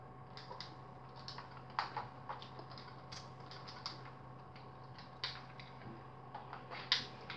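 A wooden door being placed in a survival video game, heard as a series of short clicky creaks and mechanical knocks over a steady low hum, with a few sharper clacks near the end.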